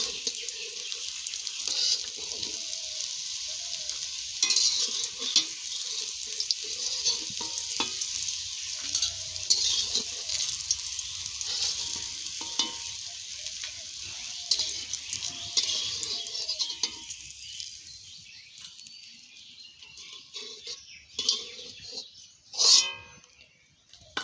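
Spices for dal frying and being stirred in a pan, a continuous sizzle with scraping strokes of a utensil, fading toward the end, where a few clinks and a sharp metallic knock sound close by.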